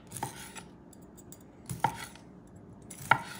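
Three sharp knife strikes on a cutting board, spaced well apart, as a cooked pork sausage is sliced; each chop is a short, moderately close thud with a light click, and quiet kitchen background sits between them.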